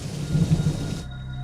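Deep thunder rumbles beneath steady heavy monsoon-style rain in a horror animation, then cuts off abruptly, leaving a faint low hum.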